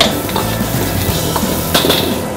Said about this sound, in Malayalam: ഓയിൽ ചൂടായി കഴിയുമ്പോൾ അതിനകത്തേക്ക് ചോപ്പ് ചെയ്ത ഗാർലിക്, ചോപ്പ് ചെയ്ത ഇഞ്ചി എന്ന് ചേർക്കുക